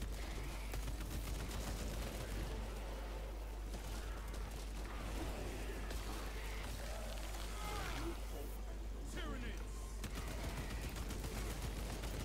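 Dense, relentless gunfire from Warhammer 40,000: Space Marine 2, with overlapping bursts and heavy volleys filling the whole stretch at steady loudness, mixed with rumbling booms and faint voices beneath.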